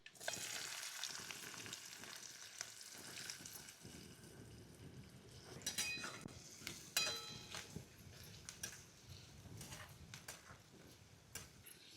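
Onion fries in hot oil with cumin and mustard seeds, giving a faint, continuous sizzle with occasional soft stirring clicks and scrapes, and no talk.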